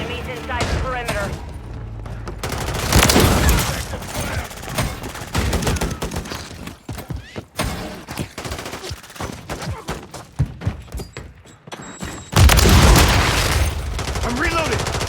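Akimbo shotguns blast repeatedly in Modern Warfare 3 multiplayer, heavy booming shots arriving in irregular bursts amid explosions, gunfire and shouted in-game voice callouts.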